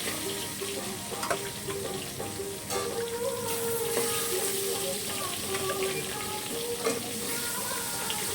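Catfish pieces slide one by one into a hot frying pan and sizzle steadily, with faint clinks of a metal spatula against the pan, close and continuous throughout.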